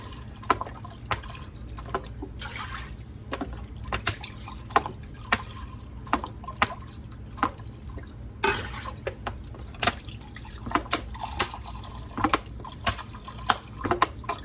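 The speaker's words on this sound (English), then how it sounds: "And we're going to put 4 cups in our pot here." Lemon juice being poured into a pot, heard as repeated close drips and splashes at an uneven rhythm over a low background hum, no talking.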